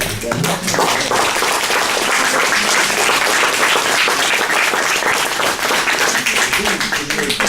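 After a talk, an audience applauds loudly and continuously, a dense wash of clapping close by, with a voice faintly audible underneath.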